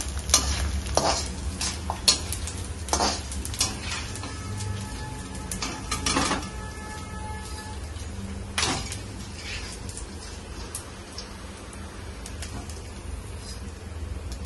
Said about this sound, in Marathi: असं भाजून घेऊया आता आपण.